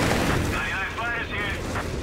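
Artillery fire in the video game Company of Heroes 3 during a 1v1 match: a booming blast with crackling, ringing tails over constant battle noise, while a caster talks throughout.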